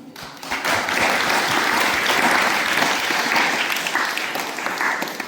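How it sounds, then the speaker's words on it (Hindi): Loud, dense applause from an audience at a Sunday school history talk, honoring Robert Raikes, with continuous clapping that swells quickly and holds steady for about five seconds. "तो हाँ रॉबर्ट रेक्स जी के लिए थोड़ा जोरदार तालियां"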